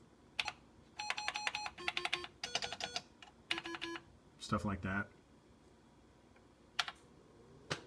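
Keys are pressed on an Atari 400/800/XL/XE computer keyboard on a testing station, in quick clusters of clicks that trigger beeping tones, followed by a short spoken remark and a couple of isolated key taps.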